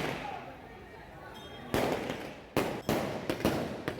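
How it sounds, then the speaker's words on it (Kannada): Firecrackers burst at a karaga palanquin festival in Jakkasandra, with several sharp bangs in quick succession after a stretch of crowd hubbub, loud and near. "ಪಟಾಕಿಗಳನ್ನ ಇಟ್ಟೇ ಬಿಟ್ರು."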